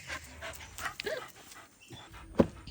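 Zubi, a pet dog, makes quiet whimpers, pants and small yips in a scattered rhythm close by, ending with a sharper, louder yelp.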